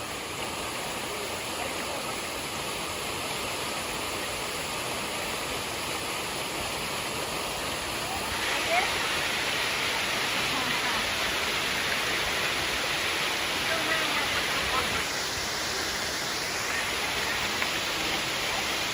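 Waterfall at Maunawili Falls, Hawaii, a steady broadband rush of falling water running the whole time with a slight swell midway, fairly loud and close.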